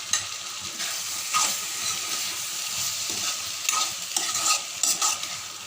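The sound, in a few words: stirring cashews and potato pieces frying in a pan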